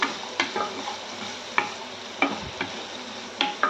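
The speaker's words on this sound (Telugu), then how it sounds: "ఆనియన్స్ కొంచెం మగ్గనిద్దామండి." Onions sauté in a pan with salt, a soft continuous sizzle broken by sharp scraping clicks of a spatula stirring every second or so, close by with no talking.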